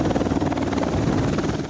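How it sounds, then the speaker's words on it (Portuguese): A Military Police Águia rescue helicopter flies over a serious crash site on the BR-280 highway in São Francisco do Sul, its rotor making a steady, loud, continuous thrum with no talking. "O helicóptero Águia da Polícia Militar foi acionado para prestar ajuda."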